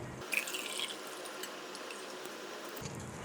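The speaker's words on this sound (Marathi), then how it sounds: "आता आपण ह्याच्यात एक ग्लास पाणी टाकून घेऊ" Water pours into a glass for kokum sharbat, a short soft trickling splash that starts abruptly, runs steadily for a few seconds and stops, close by and quiet with no voices.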